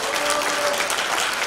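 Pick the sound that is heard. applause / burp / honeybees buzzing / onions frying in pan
applause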